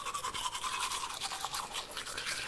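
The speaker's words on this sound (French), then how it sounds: "Brosse ta langue!" A toothbrush scrubs a tongue with quick, continuous bristly scraping strokes, close and fairly loud, alone with no voices.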